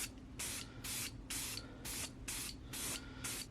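Spray paint hisses onto a scraped carbon fiber front lip from a BMW F30 in seven short, evenly spaced bursts, each loud, close and separated by brief pauses.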